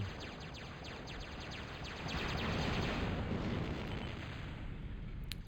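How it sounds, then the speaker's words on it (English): Continuous rumbling bombardment of explosions in the real-time strategy game Total Annihilation, as bombers strike a K-bot, a dense steady barrage that swells slightly midway, with no talking. "Twilight bombing out his K-bot."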